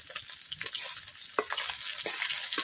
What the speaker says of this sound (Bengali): এইভাবে নাড়িয়ে নিচ্ছি, মাছগুলোকে ভাঙছে না